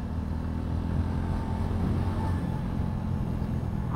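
A Suzuki Gixxer motorcycle cruises along a highway with a constant low engine drone and heavy wind rumble that holds steady throughout, with no speech.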